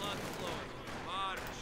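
Machine gun fire from a Company of Heroes 2 match, rapid bursts fairly faint and distant, mixed with other battle noise and voice lines.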